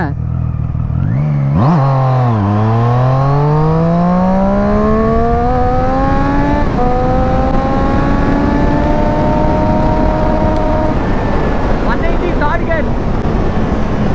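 A Triumph Street Triple motorcycle accelerates hard at high speed through the gears. The engine snarls up in rising, whining pitch, briefly dips at each shift, then climbs again, loud and close with steady road roar beneath.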